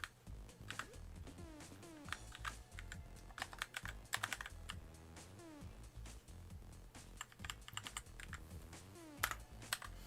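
Continuous typing on a battery-powered computer keyboard, rapid clicking keystrokes close up and fairly quiet over a bed of background music, with no talk.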